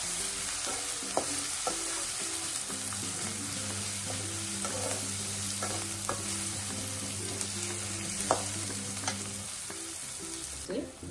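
Ginger and garlic sautéing in a pan, a steady close sizzle with soft scrapes and clicks of stirring throughout, no talk.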